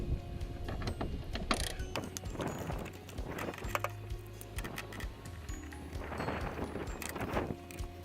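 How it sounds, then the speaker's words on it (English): Torx T30 driver undoing bolts on a Ford Fiesta, heard as faint, irregular ratcheting clicks and metallic scrapes, close up and quiet, with soft handling noises between them. "Using your Torx T30, you're going to undo this bolt here and this bolt here"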